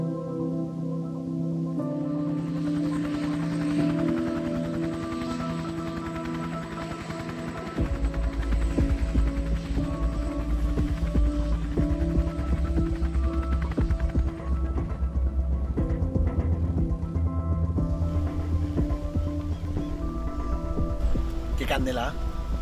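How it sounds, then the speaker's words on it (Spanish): A helicopter turbine running on the ground before a flight in Canaima, Venezuela: a steady whining hum with a deeper throbbing rumble that swells after several seconds, with people talking over it. "está aquí la turbina prendida, sonido"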